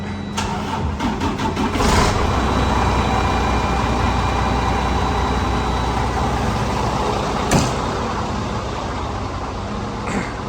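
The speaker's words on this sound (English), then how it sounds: "start the truck up so we can build a bit of air up." A truck engine cranks and fires up, then settles into a steady, rumbling idle close by to build air pressure, with a couple of sharp clanks along the way and no talk.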